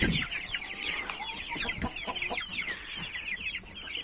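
Young chicks in a coop around a feeder give a busy chorus of high cheeps and soft clucks, near and continuous, with faint rustling beneath.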